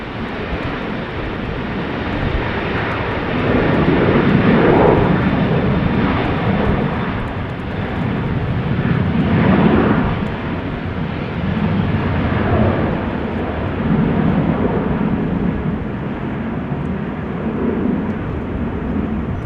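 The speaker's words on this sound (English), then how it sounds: "This is KLM flight 1355 to Prague in the Czech Republic" KLM Boeing 737-800 jet departing Amsterdam Schiphol in wet, windy weather, a broad continuous engine roar swelling and fading in waves, fairly loud and steady throughout with no voices.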